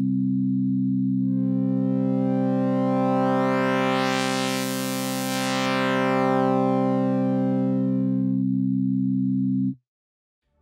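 Software synth oscillator with pulse-width sound shaping: a steady buzzy tone whose bright upper harmonics sweep in and out in a slow arc over about ten seconds, alone and fairly loud, then cutting off abruptly.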